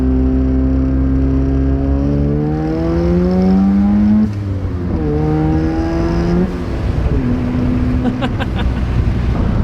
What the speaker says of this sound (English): All right, let's do a second gear pull.